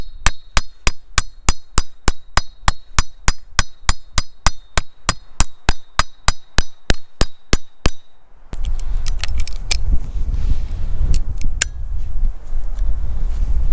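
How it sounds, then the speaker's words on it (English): A hammer strikes a pop block on a driveshaft to drive out an old U-joint, sharp metallic blows in a fast steady rhythm for eight seconds, then a louder low rumbling knock with scattered clinks. "So let's go ahead and start pounding out that old U-joint."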